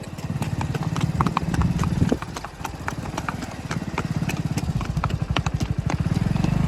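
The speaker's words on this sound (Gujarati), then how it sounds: "ઘોડી હાલી જાય છે." Steady clip-clop of a mare's hooves walking at an even rhythm, close by, with a low engine hum underneath.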